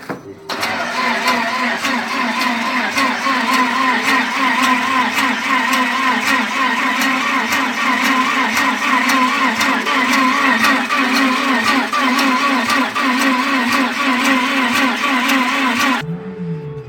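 VW Passat B5 1.8 engine cranking on a weak battery, a loud sustained rhythmic starter churning that never catches, running for about fifteen seconds before stopping abruptly.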